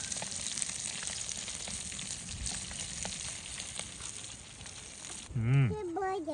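Butter and bread frying over a campfire, a steady close crackling sizzle with soft pops that runs for several seconds before a voice breaks in near the end.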